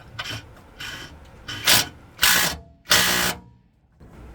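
An offset wrench ratcheting on a bushing bolt during a car lower control arm replacement, heard as about six bursts of mechanical clicking. The later bursts are longer and louder, with short pauses between them, close up and without voices.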